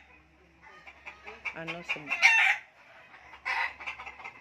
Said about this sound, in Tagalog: andito yung dalawang manok mo